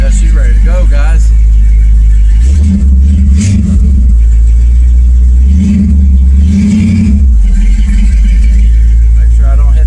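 A 1957 Chevrolet Nomad's engine drives along a road, a deep steady rumble that swells into several revving surges as it cruises, loud and close throughout.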